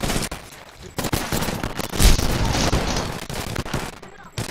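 Rapid gunfire in Apex Legends: dense bursts of automatic shots and booms close up, loud and continuous across the clip, with chaotic game noise layered underneath.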